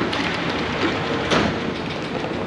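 A steady rumbling monorail ride at Walt Disney World in Orlando at night, with a continuous wash of rolling noise and a faint rattle, heard from inside the car without talk.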